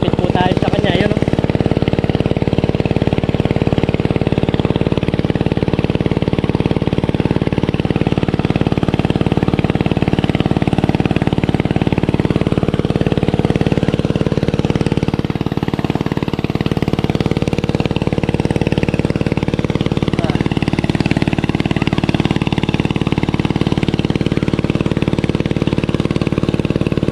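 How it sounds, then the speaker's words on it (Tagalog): A loud, steady engine drones continuously with a heavy low rumble, close by and unbroken throughout. "medyo maingay po yung makina"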